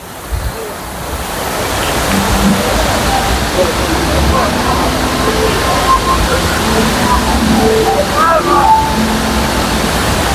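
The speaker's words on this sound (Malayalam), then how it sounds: "വെള്ളച്ചാട്ടം" A waterfall in a park in Lisbon roars with a dense, continuous rush of falling water, loud and near, with faint voices mixed in.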